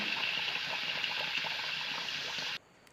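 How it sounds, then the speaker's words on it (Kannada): Two cups of rice are washed in water, making a continuous swishing, gushing water sound that is fairly close and stops abruptly near the end. "ಅದನ್ನು ನೀರು ಹಾಕ್ಕೊಂಡು ಚೆನ್ನಾಗಿ ವಾಶ್ ಮಾಡ್ಕೊಳ್ಳೋಣ"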